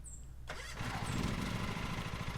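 Riding lawn mower engine in the Lawn Mowing Simulator video game cranks and catches after a quiet moment, then settles into a steady, rumbling run close by.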